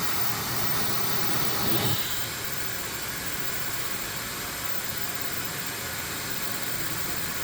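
A steady, loud airy whoosh of a hair dryer blowing at full power and maximum temperature, drawing almost a kilowatt, its pitch shifting slightly near the start, then holding constant.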